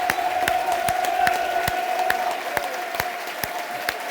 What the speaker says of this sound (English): Applause from the Millwall end as well.